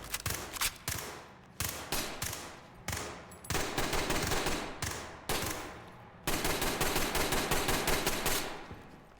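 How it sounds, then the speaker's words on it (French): Short bursts of automatic gunfire in the tactical shooter game Ready or Not, several sharp rapid volleys separated by brief pauses, loud and close with no talking. "moi je me mets en rafale, mais tu sais, je fais des petites rafales"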